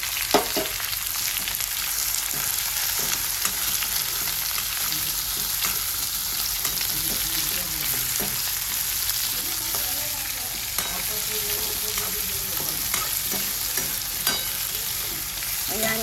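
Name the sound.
onion and capsicum sautéing with ginger-garlic paste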